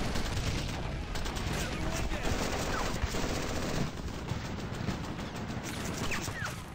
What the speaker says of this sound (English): Whoa, bullets are hitting back here.